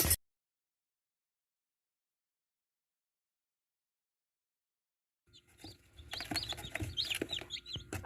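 Newly hatched chicks peep inside an incubator, a short burst of high, rapid chirps rising after several seconds of near silence, close and fairly faint, with no voices.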